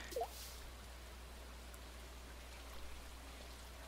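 Faint, steady rainfall fills the scene in the farming game Stardew Valley while fishing, a soft continuous hiss with a brief small splash near the start and no speech.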